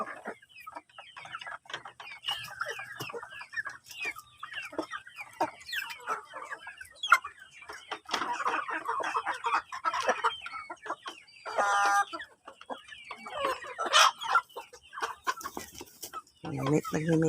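Brahma and Kabir crossbreed chickens cluck and chatter while feeding, a busy mix of near clucks and calls from several birds, with a person talking at times among them.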